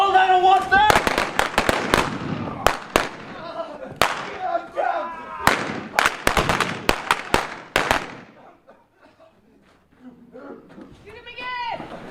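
Gunshots in a stagecoach show, a rapid string of sharp loud cracks in bursts between shouted, excited voices, then a quieter lull before more shouting.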